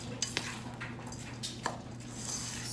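A spoon works through a vegetarian meatball mixture in a bowl, giving soft scraping stirs and a few sharp clinks against the bowl over a steady low background hum.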